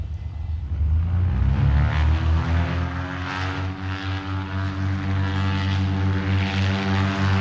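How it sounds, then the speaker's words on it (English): Loud droning blimp propeller engines close by during landing, a steady throbbing roar with rising and settling pitch, no voices. "Landing a blimp can be a tricky exercise."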